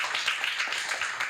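A brief patter of audience clapping at a real estate business seminar, quick overlapping hand claps of modest volume with no speech.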